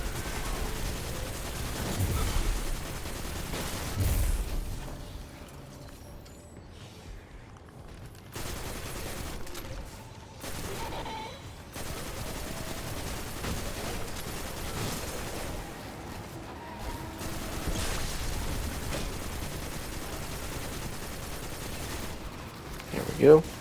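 Rapid weapon fire with volatile rounds from a Prismatic Warlock in Destiny 2 runs as a dense, continuous crackle of shots and bursts at moderate loudness, with a voice talking over much of it.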